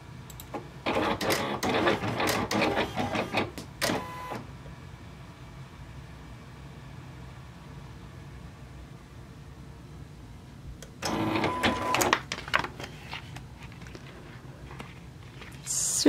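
A Silhouette cutting machine makes a test cut on smooth heat transfer vinyl, with two bursts of rapid whirring and clicking motor movement separated by a quiet stretch.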